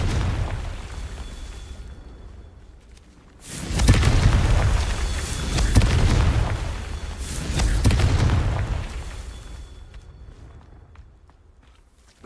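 Spell blasts from the Confringo curse in Hogwarts Legacy, two or three heavy booming bursts that swell and roll out over a low rumbling game backdrop, loud and close, with quieter ambience before and after.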